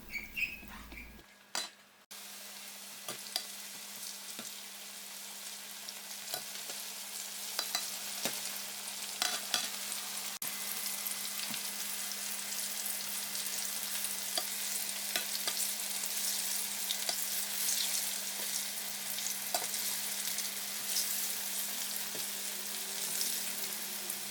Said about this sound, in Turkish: altın renk alana kadar patlıcanlarımı kızartacağım.